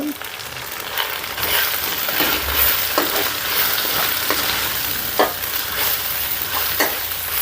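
Mint and coriander being stirred into frying ginger-garlic biryani masala in a pan, heard as a loud, steady sizzle with repeated spatula scrapes and taps close by; there is no speech.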